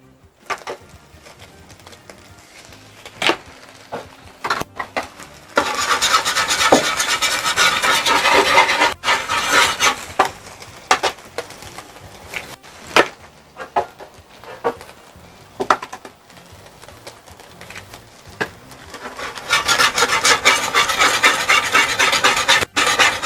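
Egg scrambling in a pan for fried rice, heard as rough scraping and rasping bursts of a utensil against the pan, coming in two long busy stretches separated by quieter, sparser scrapes.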